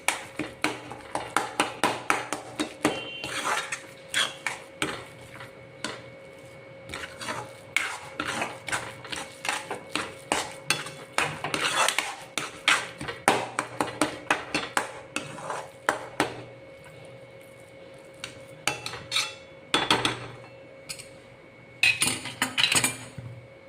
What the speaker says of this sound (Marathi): पुन्हा आता चांगलं परतवून घेऊ.